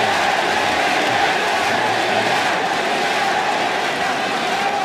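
A large esports arena crowd at the 2014 League of Legends World Championship group stage chants for TPA, a dense, loud and continuous roar of voices with a steady rhythmic pulse and no commentary over it.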